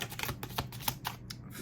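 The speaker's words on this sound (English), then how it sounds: "I will shuffle them now" A deck of tarot cards being shuffled by hand, giving a quick run of soft, crisp riffling flicks and taps, close and clear with no talking.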